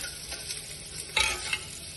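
Onions frying in a small amount of oil give a faint, steady sizzle, with one brief louder stir or scrape midway through the two seconds and no talking.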